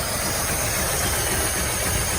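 A 1974 AMC Matador coupe's 360 V8 idling with a suspected bad accelerator pump, a steady, close, loud rumble with broadband hiss and no talking.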